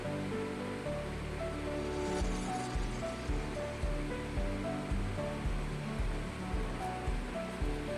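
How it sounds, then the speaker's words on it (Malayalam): A fish peera mixture with salt comes to a boil in a pot on a gas stove, giving a steady, dense bubbling and rolling hiss that holds evenly throughout with no voices. "ഇപ്പോൾ ഒന്ന് തിള വന്നിട്ടുണ്ട്."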